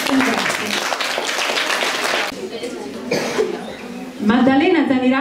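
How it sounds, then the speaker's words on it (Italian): A burst of applause and clapping from a crowd, fairly loud and steady, fading partway through before voices and a brief cheer rise at the end. "vorrei un piccolo applauso"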